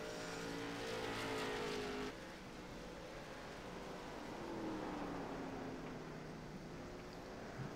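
Late model race cars lapping Stafford Motor Speedway late in a 100-lap race, a loud continuous engine roar with rising and falling pitch as cars pass, a louder burst early then a steady drone with no voices.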